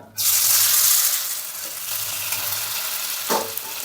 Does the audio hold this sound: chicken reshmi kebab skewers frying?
yes